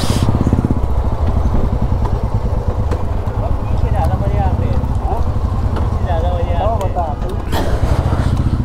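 Several Hero Xtreme 125R motorcycles idle and rumble nearby at a stop during a group Sunday ride in Qutub Institutional Area, with a steady close engine drone while people talk over it.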